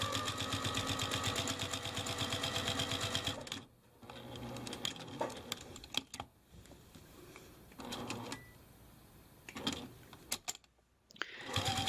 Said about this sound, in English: Using a walking foot, I stitch around to secure all layers.